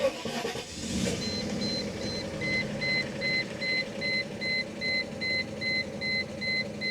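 A rare Mercedes car engine idles with a low, steady rumble, while a regular electronic chime beeps repeatedly over it and no one speaks.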